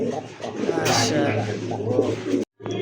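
Domestic pigeons coo steadily at a crowded pigeon market in Bangladesh, with soft, repeated throaty calls under voices that keep going almost the whole time before a brief cut near the end.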